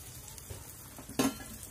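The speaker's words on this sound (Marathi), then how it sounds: "अशाच पद्धतीने हे सगळे मासे मी फ्राय करून घेणार आहे" Fish fry in a pan for a Solapur-style non-veg dish, giving a faint steady sizzle broken by a short, sharper clatter near the end.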